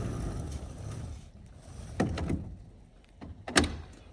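A greenhouse door closes against new weather stripping, making a few sharp knocks and rubbing thuds over soft background rustle, close and moderate in level.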